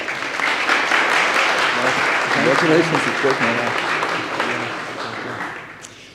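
Sustained audience applause fills a theatre hall during a startup pitch event, with voices talking over the clapping before it fades out.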